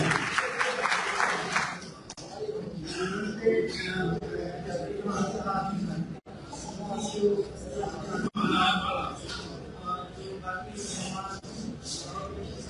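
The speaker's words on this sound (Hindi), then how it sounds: "बहुत शुक्रिया भरपूर तालियों में जनाब" Applause and crowd noise at an education conference in Pakistan, dense clapping mixed with chuckles and murmuring voices throughout, fairly loud and steady with a couple of brief dropouts.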